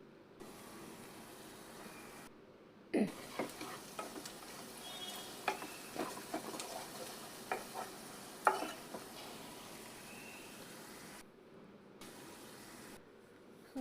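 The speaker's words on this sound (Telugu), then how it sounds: "మూత పెట్టేసుకొని కొంచెంసేపు కుక్ చేసుకుందాం." Egg dum biryani cooks in a covered pot, a low steady sizzle with intermittent crackles and soft clinks, faint and close, with brief silent gaps and no speech.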